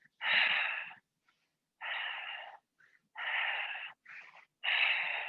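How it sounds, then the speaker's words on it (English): Forceful, breathy exhales during an exercise routine come one after another at a regular rhythm, four long pushes of air with quieter short breaths between them, close and clear. "Exhale over and over."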